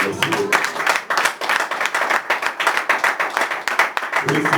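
A church congregation claps and applauds in a steady, dense patter of hands for several seconds, loud and close, with voices mixed into the applause.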